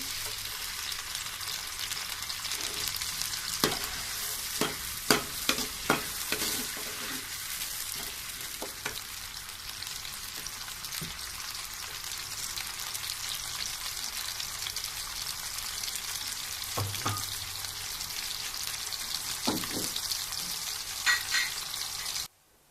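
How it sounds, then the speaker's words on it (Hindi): Chopped onions fry in ghee for a kofta gravy with a constant soft sizzle, joined by clusters of sharp utensil clacks and scrapes in the first half and a few more later. No talking. "उसमें हम काटे हुए अपने प्याज डालेंगे और फ्राई करेंगे उनको"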